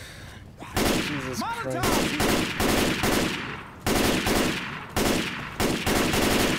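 Left 4 Dead 2 guns fire in a series of loud, close shots that come in regular bursts, with a man's brief exclamation heard over the shooting.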